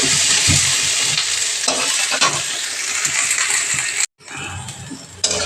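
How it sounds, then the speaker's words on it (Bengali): Onions frying lightly in oil for masala idli, a steady close broadband sizzle with scraping stirs throughout, briefly cutting out near the end before the sizzle resumes. "তখন আমি পেঁয়াজ, পেঁয়াজগুলোকে হালকা হালকা ভেজে নেব।"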